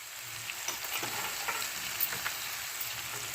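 Broad beans with their seeds tipped into a hot frying pan, a soft continuous sizzle with light scraping and stirring clicks, fairly quiet, no talking.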